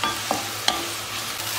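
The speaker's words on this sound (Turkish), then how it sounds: "Pembeleşene kadar kavuruyorum." Peppers and onions sauté in a pan, a steady soft sizzle with a couple of brief stirring scrapes, close and alone.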